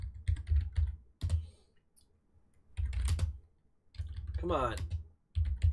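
Typing on a computer keyboard while coding math and C++ in Visual Studio 2022: bursts of quick clattering keystrokes come and go, with a voice speaking in between.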